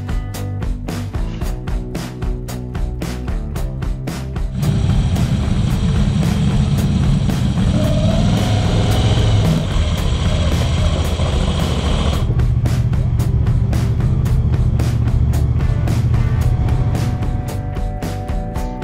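Three Moto Guzzi motorcycles set off on a ride at Switzerland's Grimsel Pass, their engines swelling into a loud, steady, close rumble a few seconds in that holds for most of the clip before easing slightly.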